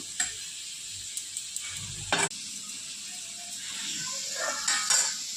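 Cabbage stalk chorchori frying in a pan, a steady close sizzle broken by a few clinks and scrapes of a spatula stirring, with no voices.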